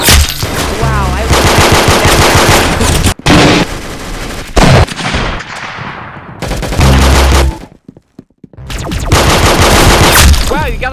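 Rapid automatic gunfire in the Roblox game Arsenal, loud dense bursts that stop abruptly and start again, with short silent gaps between volleys.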